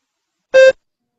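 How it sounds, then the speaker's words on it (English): A single short electronic beep, clean and tonal, in otherwise silence. "Begin speaking after the beep."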